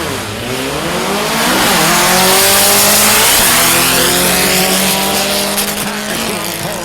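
Carbureted VW drag car on drag slicks making a full pass at Mason Dixon Dragway, a loud, continuous engine roar rising in pitch through the gears and swelling as it passes close by.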